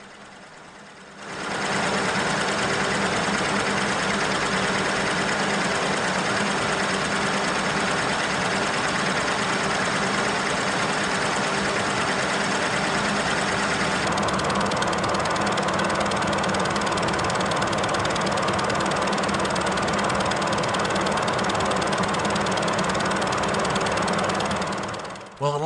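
Milling machine cutting a cast iron straight edge, spindle at 550 RPM with the table feeding at 3.5 inches per minute, a steady loud mechanical whir and grind running continuously after a brief quiet start.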